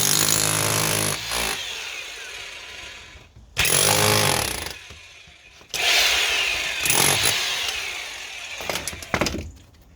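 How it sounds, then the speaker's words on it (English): An angle grinder cuts concrete during a cracked drain repair, sounding loud and close as a harsh whining roar in long bursts separated by brief pauses, with sharper crackling toward the end. "I'll probably cut this concrete here with the grinder"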